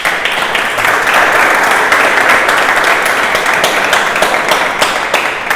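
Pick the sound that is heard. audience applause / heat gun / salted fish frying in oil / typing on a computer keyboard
audience applause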